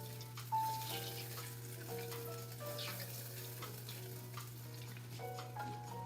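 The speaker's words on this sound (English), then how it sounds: "So I'm just gonna stir it. It's gonna start to bubble and sizzle." Butter browning in a pot for cookies bubbles and sizzles steadily, a constant crackling fry with occasional stirring scrapes over a low hum.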